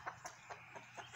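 A hen clucks in a quick series of short, fairly soft calls, about five evenly spaced across a moment, with no voices over them.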